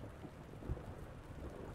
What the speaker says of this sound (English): a terrifying peal of thunder